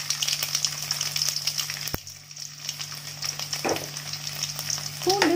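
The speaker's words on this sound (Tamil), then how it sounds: "நம்ம பொடியை நறுக்கி வச்சுருக்கிற பூண்டு ஆட் பண்ணிக்கலாம்." Garlic sizzles and fries steadily in hot oil, a continuous crackling hiss with a couple of utensil clinks against the pan.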